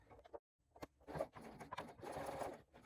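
A sewing machine stitches a backpack seam at 3/8 inch, starting near the end of the pocket lining, in quick short bursts of soft close needle clatter with a brief pause near the start.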